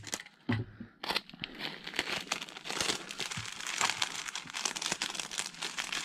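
Packing tape pulled and pressed over a bubble-wrap package for shipping an item sold online, heard up close as a steady run of crinkling, crackling and tearing for several seconds with no talk.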